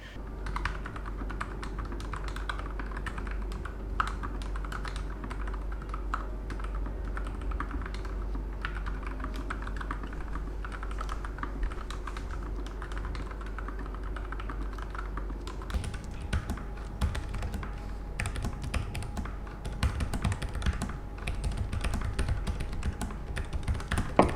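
Steady, close clicking of keystrokes from lubricated computer keyboards, continuous typing over a low hum with slightly sharper, busier taps toward the end; no talking.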